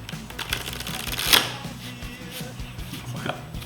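A spectator shuffles a deck of playing cards during a card trick, giving soft riffling and rustling with one sharper riffle in the middle, close and fairly quiet, with no talk.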